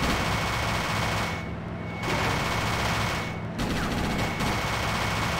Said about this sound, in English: the minigun cuts them in half?